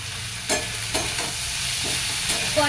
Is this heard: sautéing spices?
yes